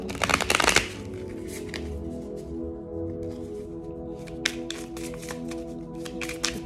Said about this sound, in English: Pull a final card about your next exciting adventure.